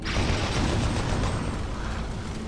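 A rocket detonates in Doom 3 BFG, a dense, sustained explosive roar filling the whole moment, loud and close with a rumbling low end and no pause.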